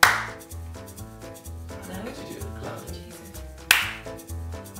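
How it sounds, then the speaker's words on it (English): A sharp, solid single hand clap opens, followed by a musical passage of sustained tones and a low pulsing bass, then a second strong clap lands near the end at an audience Q&A. "But I need one clap, solidly, please."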